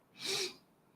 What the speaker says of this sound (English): Ooh, I feel a sneeze coming on.